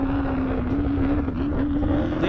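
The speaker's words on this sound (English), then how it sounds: "He's pushing his UTV, part of the 4900 Can-Am class." A Can-Am UTV in the 4900 Can-Am class races in an off-road event, its engine a steady loud droning roar held at a constant pitch, close by, with wind buffeting the microphone.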